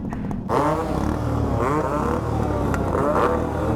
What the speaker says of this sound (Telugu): 2 స్ట్రోక్ సౌండ్ వినిపించుకోండి గైస్